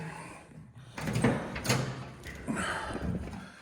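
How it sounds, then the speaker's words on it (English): The door of a 1969 Pontiac Firebird under fender rust repair swings open, with a couple of metallic clunks and a thud heard close, followed by a further bump. "the door opens now without hitting"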